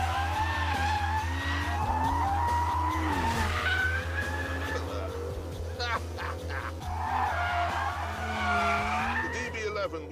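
Aston Martin DBS V12 drifting on a track with traction control off, tires squealing in long wavering howls over a steady engine drone, close and loud, with someone talking over it.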